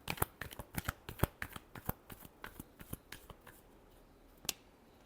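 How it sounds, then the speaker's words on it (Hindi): Playing cards are riffled and shuffled in a quick run of crisp snapping bursts, close and fairly quiet, thinning out toward the end with one last sharp flick. "Last shuffle."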